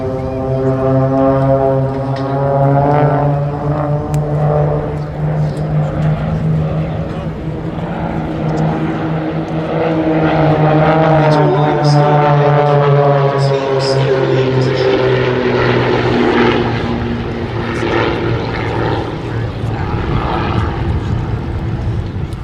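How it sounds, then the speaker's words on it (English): A Mudry CAP 232 aerobatic propeller plane performs at an air festival, its engine droning steadily with a wavering, shifting pitch throughout, loud and continuous while a commentator talks over it. "He's in the French Moudry Cap 232, which is the aircraft that was used by the French Air Force Équipe de Voltige"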